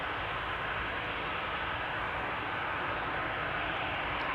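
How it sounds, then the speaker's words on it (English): Airplanes approach Amsterdam Schiphol Airport, heard as a steady, distant broadband roar of jet engines that holds at a constant, moderately faint level throughout. "Right now, 3 airplanes are coming this way."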